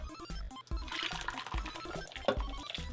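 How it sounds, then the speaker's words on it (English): Marinade sauce poured over ribs in a crock pot, a soft liquid pour with gurgling and dripping under faint rhythmic background music. "we're just going to pour the sauce over top"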